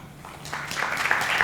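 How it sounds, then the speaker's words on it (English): Audience applause breaks out at a Howard County political stage debate after a candidate finishes speaking, starting thin and swelling into steady clapping from a seated crowd over about a second and a half. "It's applause"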